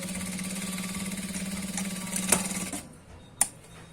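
A sewing machine runs a straight seam on ankle-length pants with a steady, fast, close mechanical whir, then stops abruptly, leaving a couple of sharp clicks.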